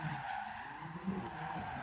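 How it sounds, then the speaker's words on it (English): A BMW spinning donuts, its tires skidding and squealing in a continuous, loud smear of rubber noise with engine roar beneath, steady for about two seconds. "Footage of this car doing donuts."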